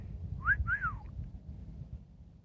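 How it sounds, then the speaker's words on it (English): A hawk calls outdoors with two clear, descending whistled screeches in quick succession, fairly close, over a low background rumble, then quiet. "Just heard a hawk."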